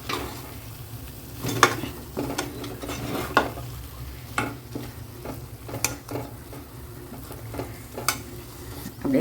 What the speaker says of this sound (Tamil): இடையில வந்துட்டு ஒரு வாட்டி கிண்டி விட்டேன்